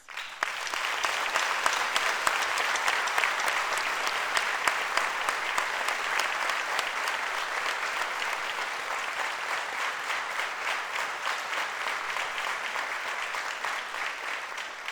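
Sustained, dense applause from a theatre audience at the closing ceremony of the 59th Vojdan Chernodrinski Macedonian Theatre Festival in Prilep, steady and loud from start to finish with no voices over it.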